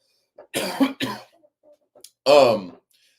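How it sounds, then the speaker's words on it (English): A few sharp coughs in quick succession, close and fairly loud, followed by a pause and one more harsh cough. "Excuse me, I got a cough."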